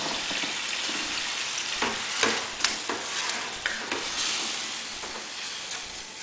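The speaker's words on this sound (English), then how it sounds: "Let's stir this." Tomato sugo sizzles steadily in a hot pan while being stirred, a constant close frying hiss broken by soft scraping strokes of the spoon, with no one speaking.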